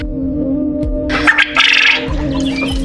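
Fayoumi chickens and quail in a backyard coop, with short clucks and bird calls close by over a steady low hum and soft rustling.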